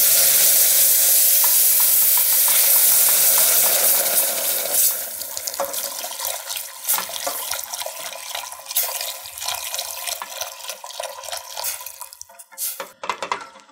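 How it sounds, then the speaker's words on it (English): Hot beef stock pours into an espagnole sauce base while being whisked, a loud rushing pour easing into rapid scraping and clicking whisk strokes against the pan. "I'm going to whisk this while I pour it in."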